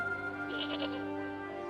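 Goat in the Broken Sword 2 video game gives a single wavering bleat over a steady humming background tone, moderately close.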